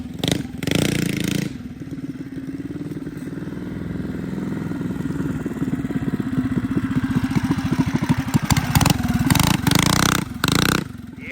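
A mini bike's small engine runs steadily while riding through snow, its carburetor not yet fully tuned, with a buzzing, slightly uneven note that rises and surges near the end, loud and close throughout.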